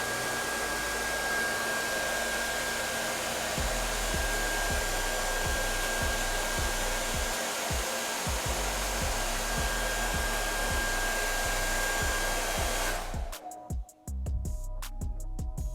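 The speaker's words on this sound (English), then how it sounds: "I'm gonna use my girlfriend's hair dryer to show you guys this" A hair dryer blows with a steady, loud broadband whoosh and hum, then cuts off abruptly near the end, leaving a brief rattle and quieter noise.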